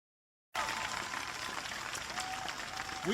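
Crowd applause erupts at a political rally in Michigan after a brief silence, a steady wash of many hands clapping, with faint whistles and cheering rising toward the end.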